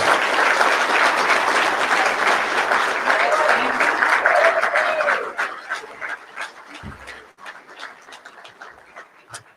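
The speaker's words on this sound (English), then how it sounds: "And now would be a good time to give all of these gentlemen another round of applause." Banquet audience applauding gentlemen at a touchdown foundation awards dinner, dense clapping for about five seconds, then thinning into scattered claps, a few barks and murmuring voices as the room settles.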